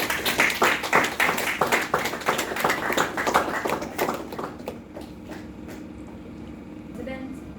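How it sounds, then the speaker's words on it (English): An audience at a Toastmasters event claps for several seconds, a dense burst of applause that thins into a few scattered claps and then fades out. "Please, round of applause."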